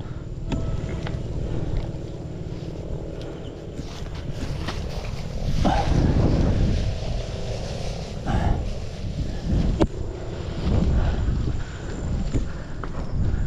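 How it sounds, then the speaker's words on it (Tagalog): Strong, continuous wind roaring and buffeting a microphone at an okra farm, rising into louder gusts, with scattered knocks and rustling underneath. "Sobrang lakas ng hangin."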